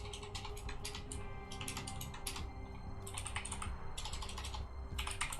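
Fast typing on a computer keyboard, close and fairly quiet, with bursts of rapid key clicks broken by short pauses over a steady low background hum.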